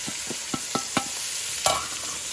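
Minced carrots and onion sizzle in hot oil in a pan for osso buco, with a steady frying hiss broken by several distinct scrapes and clacks of stirring, one louder knock near the end.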